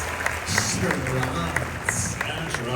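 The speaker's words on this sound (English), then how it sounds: "Give them a round of applause for an amazing round of charades!" Studio audience applauding after a round of charades at a Lord of the Rings 25th anniversary event, a steady wash of clapping with scattered cheers, mixed with talk.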